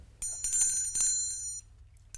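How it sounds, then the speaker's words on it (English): A small bell rings out clearly with bright, sustained metallic tones for just over a second, then fades into near silence, heard alone without talking. "Bell."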